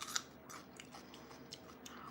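Carved honeydew melon eaten close to the mic, with crisp, crunchy bites and chewing in soft, irregular bursts over faint background hiss, and no talking.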